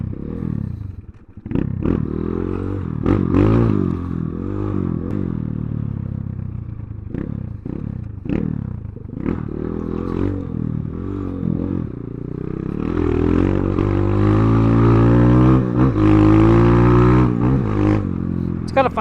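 Kayo K2 230 dirt bike with an air-cooled 4-stroke engine being ridden, revving up and down through gears with rising and falling pitch, close and fairly loud, with rattling and scraping at times.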